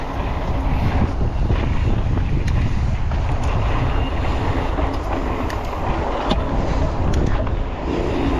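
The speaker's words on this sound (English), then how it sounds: "Ooh, gnarly headwind." A strong headwind buffets the microphone during a mountain bike trail ride on a Norco Fluid FS C, producing a loud, steady roar of wind noise that continues throughout without pause.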